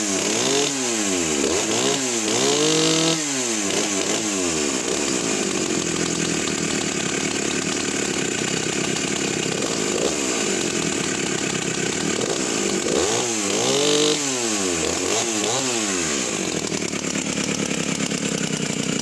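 A vintage Stihl 07S chainsaw engine runs loud and close, a raw two-stroke buzz that repeatedly revs up and falls back to a rough idle in uneven bursts.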